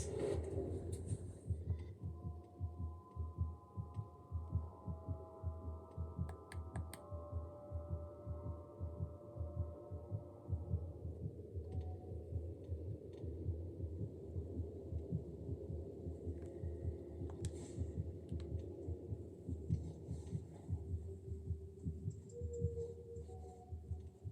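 Heartbeat sound effect from the horror video game Among the Sleep, a steady low throbbing pulse that runs throughout under a dark hum, with brief tonal music in the middle and no speech.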